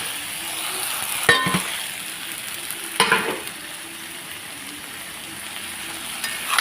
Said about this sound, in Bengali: সুন্দর করে ভেজে নিচ্ছি পেঁয়াজটা। এখানে আমি দিয়ে দিলাম সবজি।